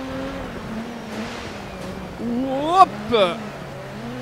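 Ford Focus rally car sliding on a stage in DiRT 4, its engine droning steadily and then rising in two sharp revving bursts near the end, with a voice calling out briefly over it.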